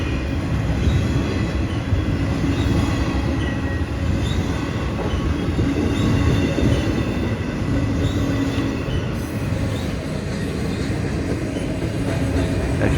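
Freight train rolling past close by near CSX Howell Yard, a loud steady rumble of wheels and cars with faint high squeal, continuous throughout with no talk.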